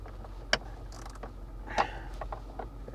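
Small hand driver from an Icon mini driver set working a greasy factory bolt loose from a 2024 Jeep Wrangler mount, giving faint mechanical clicks and creaks with a few sharper ratchet-like ticks spread across a quiet stretch.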